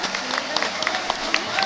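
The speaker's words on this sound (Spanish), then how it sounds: "vamos a dar un aplauso para que el hombre le dé fuercilla para arriba" A crowd at a folk music event in a Canary Islands village applauds with fast, dense claps, and voices call out over the clapping.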